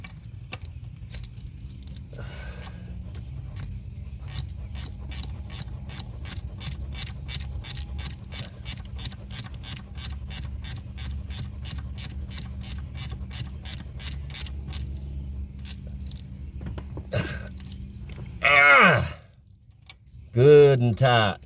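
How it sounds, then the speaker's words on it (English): A straight 10mm ratchet wrench tightens bolts in the engine bay of a 2002 Ford F-150, with a long run of quick, even clicks close by, followed by louder handling noises. "you're gonna need a straight 10mm ratchet wrench as well"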